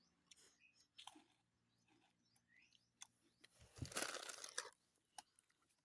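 Crunchy pasta snack being bitten and chewed at an outdoor jungle party, a few quiet crisp crunches early, then a louder burst of close chewing near the middle, with faint birds in the background.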